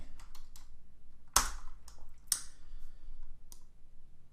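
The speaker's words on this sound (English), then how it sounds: "we're going to type out the first name and then the last name and the company" Typing on a computer keyboard in a quiet room, a sparse run of light key clicks with a few sharper, louder taps standing out, heard alone with no talk.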